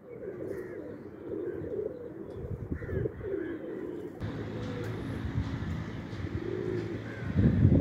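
Kali Jeeri highflyer pigeons, a rare old breed, coo and call in low repeated murmurs throughout, with occasional chirps and a busier, louder stretch near the end.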